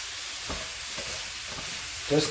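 Food frying for a breakfast hash in a skillet or Dutch oven, heard as a soft continuous sizzle with a few light scrapes as it is stirred and flipped, plus a brief clink near the end.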